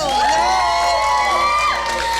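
A pageant audience cheers and whoops loudly for a contestant, with excited shouts and high voices overlapping in a steady, close roar.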